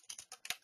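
Quick light key taps on a computer keyboard, about six soft clicks in under a second, close and faint with no talk.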